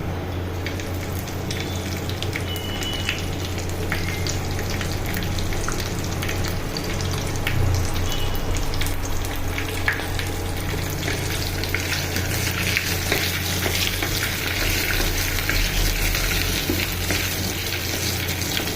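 Mustard seeds, curry leaves and garlic fry in hot oil for poha, giving a loud, steady sizzle with scattered pops and crackles and a faint stirring throughout, close up and without talk.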